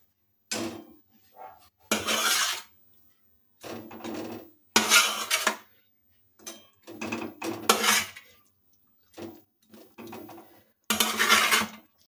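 Fried rohu fish pieces go into boiling masala gravy in a pan while making an Odisha-style curry, producing several separate bursts of clattering and sizzling with quiet gaps between them and no talking.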